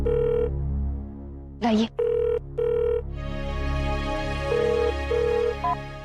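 A telephone rings in a home in bursts of a repeating electronic tone, loud and near, broken by a brief spoken word and followed by a quieter, rising ring pattern.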